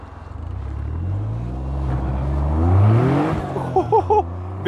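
A Caterham Seven SuperSprint with a five-speed manual and rear-wheel drive accelerates, its engine note climbing steadily to a loud peak before backing off with a few quick throttle blips, heard from inside the car.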